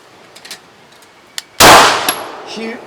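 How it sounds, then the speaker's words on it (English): A single loud gunshot from a handgun at a shooting session rings out sharply, with a metallic clang and trailing echo, after a few faint clicks and handling noises, with no speech. "Shoot it. 2 rounds."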